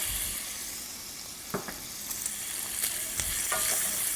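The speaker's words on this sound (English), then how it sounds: "we're going to want to add a little bit of our butter to our bacon" Bacon frying in melted butter in a pan for corn chowder makes a steady, fairly quiet hiss and crackle, with a few brief stirring clicks and scrapes.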